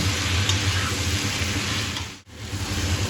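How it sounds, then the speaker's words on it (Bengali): Pumpkin and beans stir-fried with spices in a pan, a steady loud sizzle with a continuous hiss throughout and a brief dip where the stirring pauses. "কষানো কুমড়োর সঙ্গে বিনসও ভালোভাবে নেড়ে চেড়ে আবারও প্রায় মিনিট 3 সময় ধরে কষিয়ে নেব"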